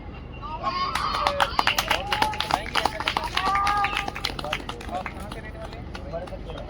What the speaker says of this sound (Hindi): तालियों में दम नहीं है भाई